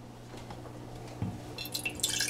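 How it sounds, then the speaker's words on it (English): Water poured into a pot to make mint tea, heard as a few soft drips followed by a brief, bright splashing trickle toward the end, close and quiet. "what I do basically in my thing is I add the amount of water that I want to put in here"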